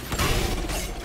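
Quick mechanical clicks and clacks of a weapon being reloaded in Valorant, a short close burst of ratcheting metal handling with no talk over it.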